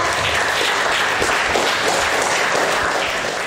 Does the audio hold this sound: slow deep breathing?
no